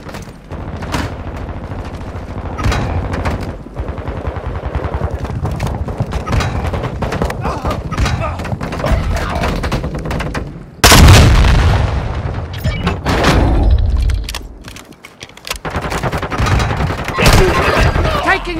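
Dense, loud gunfire and heavy booms in Call of Duty: Modern Warfare II, continuous rattling shots with a big close blast midway, under game ambience and radio-style voice callouts.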